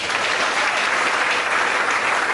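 A church congregation breaks into dense, loud, sustained applause, many hands clapping evenly throughout with no let-up.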